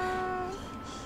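A single cat meow rings out clearly in the Little Busters! video game, a short falling tonal cry that fades within half a second into quiet background.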